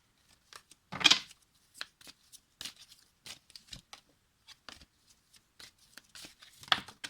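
An oracle card deck shuffled by hand, a sequence of quick riffling bursts and light card taps, close and isolated, with short quiet gaps between handfuls.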